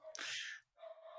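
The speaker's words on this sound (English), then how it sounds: "Dog is going crazy." A neighbor's dog barks and yips in an excited burst, fairly faint and distant, followed by a steady tonal whine or hum.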